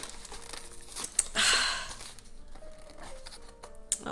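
Plastic packaging crinkles and rips as it is pulled at by hand, with one louder tearing burst in the middle, close and fairly quiet.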